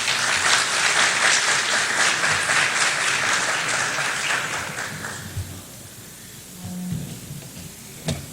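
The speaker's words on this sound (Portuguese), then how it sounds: "Senhoras e senhores, vamos aplaudir o senhor Silvio Meira." An audience at a CIO technology conference applauds a speaker, a dense, loud burst of clapping that tapers off after about five seconds into quiet room tone with a few stray sounds.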